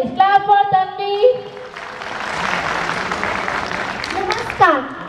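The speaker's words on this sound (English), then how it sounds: "Clap for Tanvi." An audience claps together at a stage event for Ganesha, a steady wash of applause running for several seconds after a brief spoken introduction, with a voice returning near the end.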